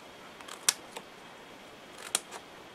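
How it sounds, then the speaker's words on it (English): Two crisp scissor snips cut into paper to fringe it into grass for a handmade mini album, quiet and close, spaced about a second and a half apart, with faint softer clicks between them. "So you just snip a bit like so, randomly."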